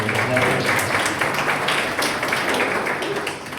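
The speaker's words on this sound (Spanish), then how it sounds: "le da la bienvenida a Claudia en un aplauso de bienvenida" Welcome applause from a church congregation greeting a guest named Claudia, a dense steady patter of many hands clapping at close range, sustained and even throughout with a faint murmur of voices beneath.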